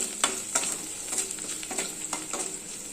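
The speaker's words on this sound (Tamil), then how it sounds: "பூண்டு இது எண்ணெயிலே வதங்கட்டும்" Garlic sizzles steadily in hot oil, a close, continuous frying hiss broken by a few louder clicks and scrapes of stirring.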